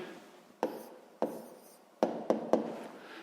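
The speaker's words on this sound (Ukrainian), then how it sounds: "Ну що ж, записуємо відповідь." A pen writes down the answer to a sixth-grade maths exercise, with five sharp scratchy strokes at uneven intervals, each fading quickly, close and clear with no talking.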